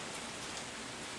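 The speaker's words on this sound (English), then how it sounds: "So just a light drizzle of salt and we'll shake them up after." Salt being sprinkled from a small pack onto a taco bowl, a brief steady fine hiss like light rain, soft and close with no talking.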